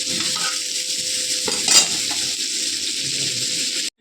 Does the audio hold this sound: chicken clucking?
no